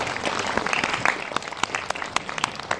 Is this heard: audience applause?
yes